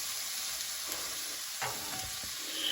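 Noodles fry in a pan with a steady, close sizzling hiss, punctuated by a few soft scrapes of stirring.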